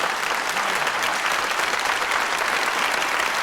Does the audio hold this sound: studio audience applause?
yes